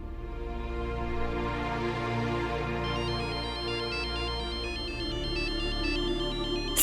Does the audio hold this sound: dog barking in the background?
no